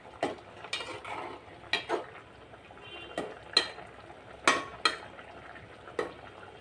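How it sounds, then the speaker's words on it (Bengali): A utensil scrapes and knocks against a frying pan in a home kitchen while chichinga and fish curry are stirred, giving about a dozen sharp, uneven strokes close by under a faint steady sizzle. "দিয়ে এখন একটু নেড়ে ছেড়ে দিয়ে আরেকটু রান্না করে নিব।"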